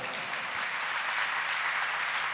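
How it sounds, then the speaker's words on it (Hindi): Audience applause at a Jain religious discourse by a monk, a steady dense wash of clapping held at an even, fairly quiet level throughout. "अब तो ताली बजा दो।"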